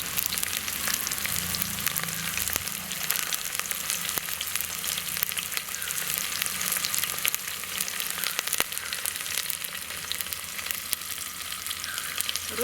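Curry leaves crackling and sizzling in hot oil for a garlic rasam tempering, a dense continuous fry with sharp pops throughout, close and steady with no voices.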